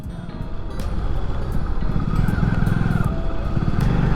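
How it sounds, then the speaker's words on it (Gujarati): Motorcycle riding through the streets of Jaipur on a cold day, a loud steady engine drone with wind rush, the pitch shifting slightly as it moves through traffic with faint horns. "આ બાઇક લઈને હવે આપણે જઈએ"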